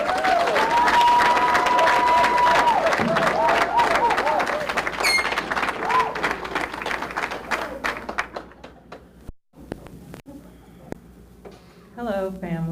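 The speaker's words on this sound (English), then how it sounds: "Please join me in applauding their graduation day." A graduation crowd applauds and cheers the graduates of Columbus Scioto, loud sustained clapping mixed with a voice and tonal sounds early on, thinning out to scattered claps and fading before a brief burst near the end.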